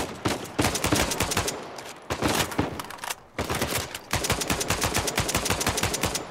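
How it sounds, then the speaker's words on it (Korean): Rapid, sustained gunfire from the PS4 game Uncharted 4: bursts of shots crackle in dense, automatic-weapon volleys with brief pauses between them, loud and close, with no talking. "이제 그냥 바로 쏴 죽여야겠다"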